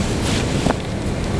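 Breezy wind buffets the microphone outdoors at a model glider flying field, a loud, continuous rushing roar with no other clear sounds.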